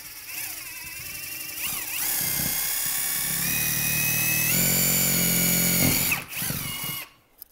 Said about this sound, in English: And I'm just going to quickly drill in using the smallest drill bit that I have on where the mark is.